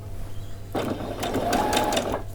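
A sewing machine runs a long tacking stitch along a folded edge of fabric for a frilled top, a steady close mechanical whir that starts abruptly partway in and continues to the end.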